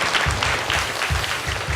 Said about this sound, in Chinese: 我们拍手，把荣耀归给神